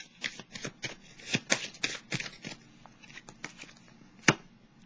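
Tarot cards being shuffled by hand, a close run of papery riffles and slaps with uneven spacing, ending in one sharper snap of a card.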